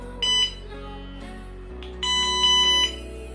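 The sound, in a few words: beeps of SkyRC B6 Nano charger starting charge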